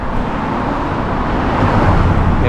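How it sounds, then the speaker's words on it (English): Cars pass on a road beside a runner doing threshold training, a loud broadband roadway rush building steadily with traffic drone, close to the microphone and without speech. "There are cars coming on this road"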